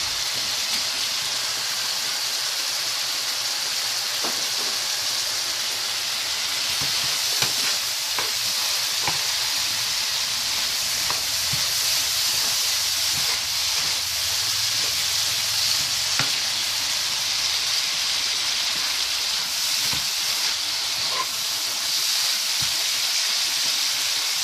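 Onion hitting a hot frying pan already holding leek, parsley and thyme, with a steady close sizzle and hiss and occasional stirring scrapes throughout.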